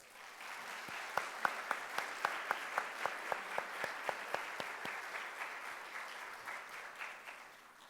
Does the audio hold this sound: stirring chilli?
no